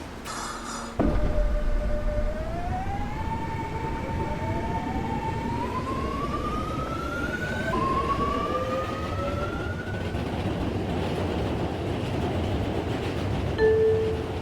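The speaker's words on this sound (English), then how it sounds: "This is a promontory-bound F train." A 2500 Series F Line metro train bound for Promontory pulls away, its motors whining upward in rising stepped tones over steady rumble and rail noise after a door chime at the start.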